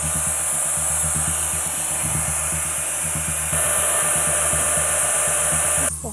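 Steady, loud power-tool or sawing noise runs continuously at close range with a harsh high hiss, shifting slightly partway through and cutting off near the end.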